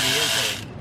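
A ratchet works on intake bolts of a 6.7 Cummins diesel engine, giving a quick burst of close, loud clicking that ends abruptly.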